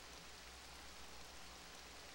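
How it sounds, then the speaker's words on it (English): Steady rain falls behind a Madden 2001 football video game session, a soft, even hiss running unbroken at low level throughout, with no voices over it. "As you hear the rain all in the back, that's kind of cool."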